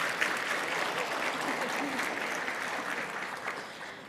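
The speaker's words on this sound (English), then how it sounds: "So huge round of applause to NACA for all the amazing work they've done." Steady applause from a large crowd at a panel conference, continuous and fairly even throughout, with a faint voice or two rising briefly over the clapping.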